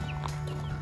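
Quiet, close clucking from hens runs as a low, even murmur, with a couple of brief higher chirps rising over it.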